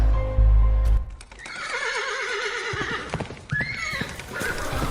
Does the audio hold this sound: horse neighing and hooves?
yes